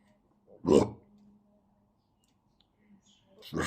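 A short, soft burp sounds near the start, followed by a second brief burp at the end, with quiet low hum between.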